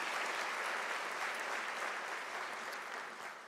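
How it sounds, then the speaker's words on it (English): A crowd applauding at a university graduation ceremony, sustained dense clapping that holds steady for a few seconds and then begins to taper slightly. "Can we give your university a round of applause?"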